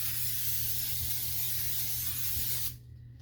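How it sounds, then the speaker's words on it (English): A continuous hiss of aerosol cooking spray onto a pan runs for nearly three seconds, then cuts off abruptly, leaving quiet background hum. "I'm going to spray our pan down with some cooking spray"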